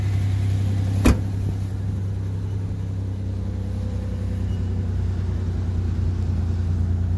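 A 1998 Ford Ranger Supercab 4x4 with the XLT package idles steadily with a low, even engine hum, close and constant, broken by one brief click, with no talking.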